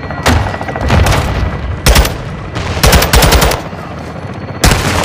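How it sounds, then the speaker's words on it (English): Bursts of automatic gunfire and heavy supporting fire rattle in a Call of Duty Modern Warfare 2 multiplayer match, loud and close, coming in several rapid volleys separated by short pauses. "Alto, call for fire"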